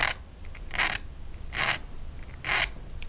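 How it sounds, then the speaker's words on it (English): A needle file rasps along the edge of a metal pendant tab in three short, evenly spaced strokes, close and fairly quiet, with no talk. "run your needle file just over the edge of the metal here"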